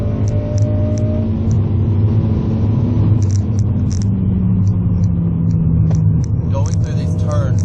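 Engine of a 2007 Honda Civic Si pulling hard at high RPM from inside the car, a steady loud rumbling drone with rising tone near the end, under light background noise.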